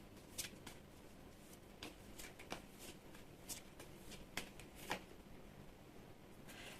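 Tarot cards drawn and handled close up, with soft papery slides and crisp flicks that come in irregular bursts over a quiet background and no talking.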